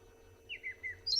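A robin mimicking other birds gives a few short calls in quick succession, sliding whistles followed by a higher chirp, fairly faint against a quiet low hum.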